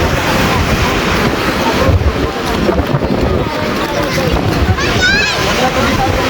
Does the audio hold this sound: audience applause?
no